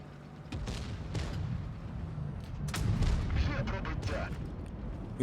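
A heavy tank cannon shot in World of Tanks Blitz booms out of a rumbling game soundscape, followed by scattered crackling impacts and low engine noise.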